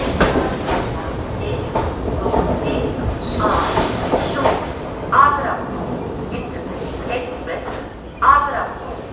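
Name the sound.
Vande Bharat train departing Agra Cantt for Banaras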